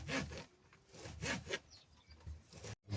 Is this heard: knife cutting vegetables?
yes